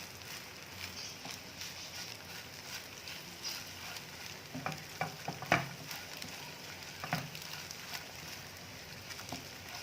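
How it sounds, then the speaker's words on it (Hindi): Egg frying in a pan while making Chinese fried rice, a steady soft sizzle throughout with a few sharper crackles and spits near the middle, fairly faint and alone without talk. "तो देखिए अंडा हमारा फ्राई हो गया है।"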